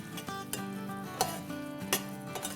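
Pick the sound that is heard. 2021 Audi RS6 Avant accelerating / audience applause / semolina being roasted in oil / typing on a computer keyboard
semolina being roasted in oil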